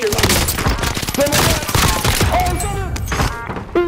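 Rapid video game gunfire rattles in dense bursts, loud and continuous, with a voice talking over it.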